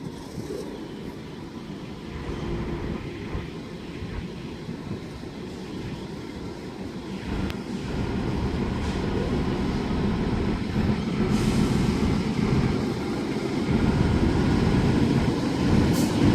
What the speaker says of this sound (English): And we should have 3 BM4 coming to a stop on platform number 1, waiting for a signal to clear.